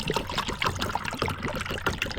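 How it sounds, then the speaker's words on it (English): Water is poured into a cup outdoors on a cold, foggy estuary, a close, continuous splashing trickle with bubbling pulses and no talk over it. "We're gonna put some water."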